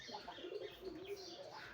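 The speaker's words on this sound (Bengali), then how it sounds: "আর কিছু কবুতর আছে আমার বাইরে" Local pigeons kept outside coo softly in a low, murmuring run of notes, fairly faint and steady, with no talking.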